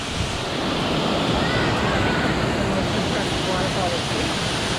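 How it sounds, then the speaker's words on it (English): Inglis Falls on the Bruce Trail's Sydenham section pours in a steady, broad roar of rushing water, heard from nearby without a break. "Inglis Falls waterfall."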